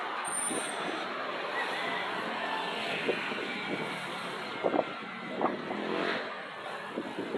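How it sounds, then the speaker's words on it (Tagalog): Road traffic on the uphill ride toward Antipolo, heard from a bicycle: a low, steady rumble of passing vehicles with a few brief engine surges and clatters, fairly faint and without talk. "Traffic mga ka-bikers."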